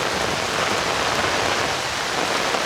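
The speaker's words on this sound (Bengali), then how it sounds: "দেখুন এত ভয়ানক বৃষ্টি" Heavy torrential rain pours down, a loud, unbroken hiss of drops striking surfaces close by, with no voices over it.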